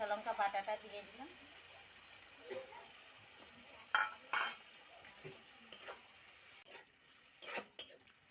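A spoon stirs chicken curry frying in a pan with tomato, coriander and green chilli paste. Soft scrapes and light sizzling come in short, quiet bursts, with faint background voices.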